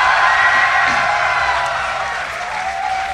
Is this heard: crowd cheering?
yes